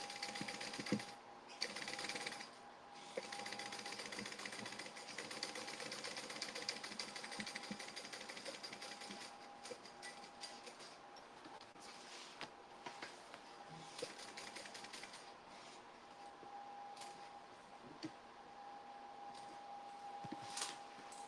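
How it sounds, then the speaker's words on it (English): Webbing is stitched down onto a tote bag on a sewing machine, heard as a quiet, steady mechanical whir with light ticking bursts and short pauses, without talk. "And we are just going to stitch this down."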